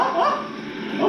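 A dog in a video game gives a short burst of close barks and yips that lasts about a second.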